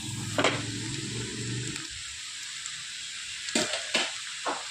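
Cooked vermicelli sizzles while being stirred in a pan for semiya uppumavu, a soft frying hiss broken by a few sharp scraping stirs near the end.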